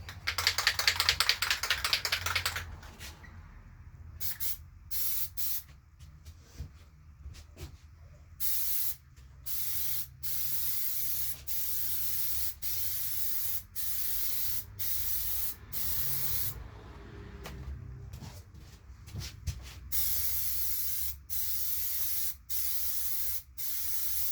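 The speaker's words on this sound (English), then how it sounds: "make sure you hold it upside down and spray it till it comes out clear" Aerosol can of Plasti Dip coating sprayed onto a half helmet: a loud continuous hiss opening the clip, then a long series of short hissing bursts with brief pauses, close and alone without talk.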